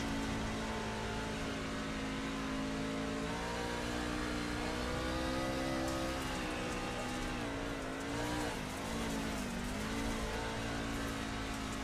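Race car engines from a race broadcast played back, a continuous droning whine that shifts pitch as cars accelerate and lift, with faint tire squeal, moderately quiet and steady.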